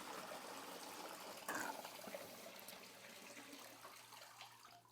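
Water washes steadily through a Gold Cube panning tray as a soft, continuous trickle and splash, fairly quiet and close, with a brief louder gush in the middle.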